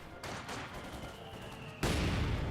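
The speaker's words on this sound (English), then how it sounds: "the early mortar gets a good hit there" Mortar shell strike in Company of Heroes 2, a muffled rumble of distant gunfire followed by a sudden heavier impact that swells into a loud, lingering boom near the end.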